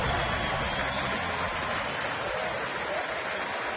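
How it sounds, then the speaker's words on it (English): A ballpark crowd applauds during a 2010 Brewers at Cincinnati Reds game, a dense, steady wash of clapping and cheering that fills the whole moment without letup. "Crowd applauding."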